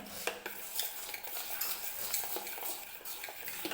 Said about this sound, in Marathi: व्यवस्थित असं मिक्स करून घेते मी